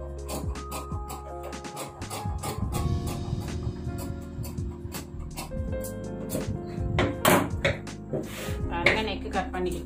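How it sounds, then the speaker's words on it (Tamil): Scissors cutting the neck of a baby shirt out of cloth, close and steady, with a run of crisp snipping clicks while a person talks over the cutting. "இப்போ நெக்க முதல்ல கட் பண்ணலாம்."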